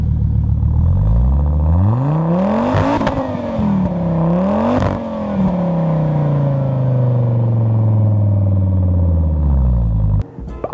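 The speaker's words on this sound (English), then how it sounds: "which provides it with an incredibly distinct engine sound that can never be mistaken." A Volvo 850 with a 2.5-liter inline-five of about 170 horsepower revs up and down twice, then settles into a steady, loud drone before cutting off abruptly.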